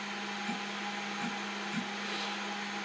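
Snapmaker 2.0 A150 3D printer with its head moving, a steady motor whine and mechanical hum with faint periodic clicks, close and continuous, with no talking.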